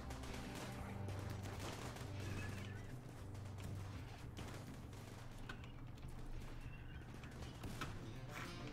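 A centipede shooting in the RimWorld video game sends out a steady, dense barrage of rapid gunfire that carries on without a break, layered under busy game sounds.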